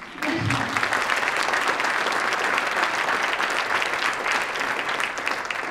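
An audience applauds at a family support event, steady dense clapping running the full length and fairly loud, with no talk over it.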